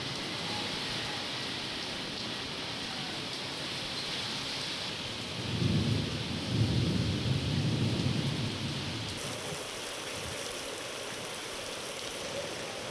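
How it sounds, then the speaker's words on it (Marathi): Heavy monsoon rain pouring steadily in Mumbai, a dense constant hiss with a low rumble of thunder rolling through the middle and fading away. "जोरदार पावसानं हजेरी लावली"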